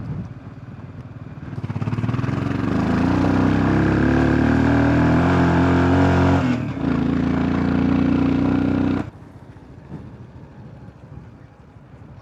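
A motorbike rides slowly through Manang, its engine rising to a steady close drone with wind buffeting the microphone. The drone then drops away abruptly, leaving quieter rustling.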